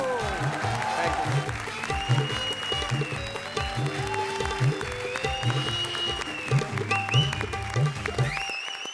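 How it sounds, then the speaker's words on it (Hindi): Studio audience applause on a comedy show stage, steady clapping throughout with background music and voices layered over it. "लीथल कॉम्बिनेशन कपिल और कविता के लिए जोरदार तालियां"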